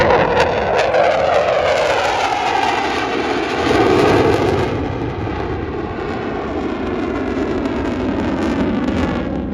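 A Conair Firecat firefighting aircraft flies past at an airshow with a loud, steady propeller-engine drone. The pitch sweeps slowly as it passes.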